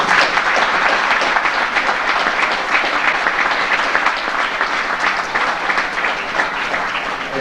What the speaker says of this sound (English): this group deserves a big round of applause